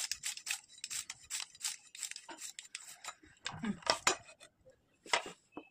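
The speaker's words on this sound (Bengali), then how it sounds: "গাজরটা আমি আরো কুচি কুচি করে কেটে নেবো, কুচি কুচি করে নিচ্ছি।" A knife finely chopping carrot on a board, a quick series of close, crisp cutting taps and scrapes in irregular bursts with short pauses between them, no talking.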